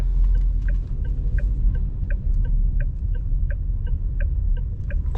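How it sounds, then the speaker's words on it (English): Turn indicator ticking steadily in a Dongfeng Forthing T5 EVO at night, soft regular clicks over a low road and cabin rumble. "Quite relaxing sound of the indicator."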